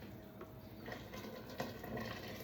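Water is poured into a cooking pot of simmering arroz caldo broth, a steady splashing, rushing pour held close and fairly even for a couple of seconds, with no talk.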